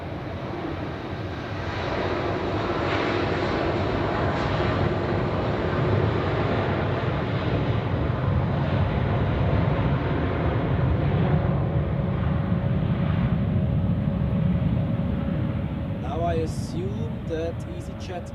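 An Air Serbia airliner departs Zurich airport, a sustained jet engine roar that builds in and holds steady for a long stretch, with a person talking over it near the end.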